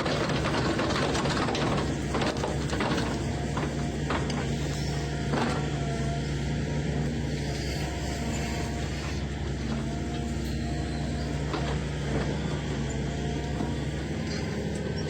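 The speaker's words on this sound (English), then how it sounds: "Watch this extraordinary equipment in action and witness how it transforms even the most difficult stumps into mulch with ease." A stump grinder chews a difficult tree stump into mulch, giving a loud, steady mechanical roar with a constant low drone and scattered clattering grinding, close by, with no talk.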